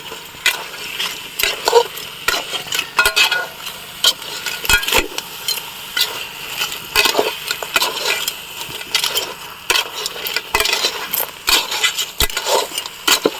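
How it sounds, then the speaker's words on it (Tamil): Crab stirred and sautéed with masala in a large, slightly tilting pan, giving scraping, clattering spoon strokes and light sizzle in irregular bursts throughout, fairly close and with no talking. "நண்டு போட்டு நல்லா வதக்க வேண்டியது."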